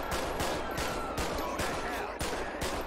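Gunfire in the GTA V police mod LSPDFR during a standoff on Seaview Road, with sharp shots at irregular intervals over a dense, noisy game backdrop.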